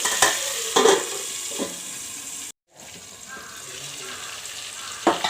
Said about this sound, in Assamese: এতিয়া বিলাহীটো সিজিবৰ বাবে মই এখন ঢাকন লগাই দিম।